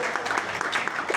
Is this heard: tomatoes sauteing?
no